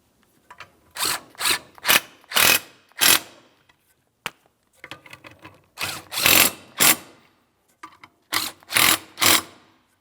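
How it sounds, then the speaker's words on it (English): Power tool or ratchet driving in the power steering pump mounting bolts on a 2007-2014 GMC Sierra 2500 HD, short whirring bursts in two clusters of four or five, with brief pauses between, close and clear. "Once all of them are started in by hand, snug them up and torque them to 37 foot-pounds."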